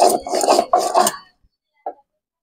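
Spices are ground into a curry paste for a village-style desi chicken curry on a traditional Indian sil-nora grinding stone. A few quick, rasping scraping strokes sound close by, followed by silence and one short, faint scrape.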